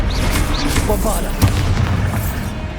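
A Bombarda spell explosion in the Hogwarts Legacy video game, a dull boom with a crackling burst amid steady game noise, while a voice talks over it.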